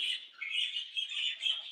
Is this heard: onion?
no